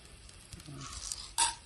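Two dried red chillies dropped into hot oil give a soft, close sizzle that swells near the end into a brief, brighter crackling burst.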